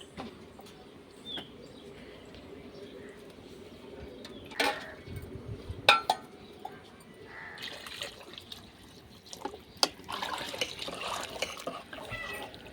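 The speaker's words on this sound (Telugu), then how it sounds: "ఇప్పుడు తగినన్ని నీళ్ళు అయితే వేసేస్తున్నాం" Water pours into a cooking pot for sambar in a quiet kitchen, faint at first, then a steadier splashing stream near the end, with a few sharp clinks.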